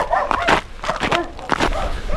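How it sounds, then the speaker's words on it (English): Dogs bark from behind fences in a rural settlement in Eastern Europe in winter, a few loud, close barks repeating over about two seconds against outdoor background noise. "Dogs barking, but they're behind fences over there."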